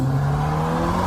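Engine of a car at an outdoor car meet holding a steady, loud low drone with a slight pitch shift, close by and without voices.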